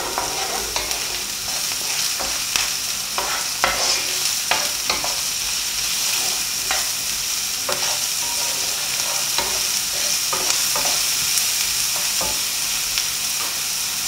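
Onion fries in oil in a pan for a meat pasta sauce, with a close, even sizzle broken by frequent clicking and scraping stirring strokes throughout.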